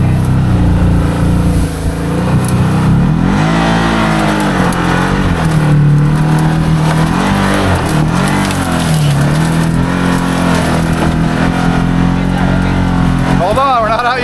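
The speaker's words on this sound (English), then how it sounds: "These tires are spinning a lot." Can-Am Maverick XMR Sport UTV engine revving hard and continuously as its tires spin in a stuck spot, the engine note surging up and down in waves, loud and close, with voices heard at times.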